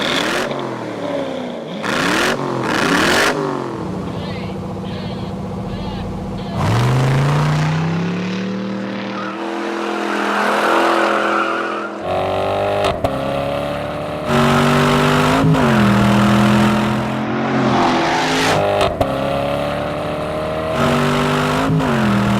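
A Chevrolet Corvette big block V8 driven hard, its engine revving and rising in pitch through repeated loud accelerations with brief gear-change dips, close and steady with no talk over it.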